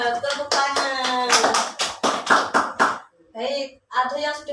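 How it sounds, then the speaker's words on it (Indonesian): A primary school class claps in rhythmic bursts, loud and close, as a group clapping chant in class, with children's voices calling out between the claps and a teacher speaking. "Tepuk tangan."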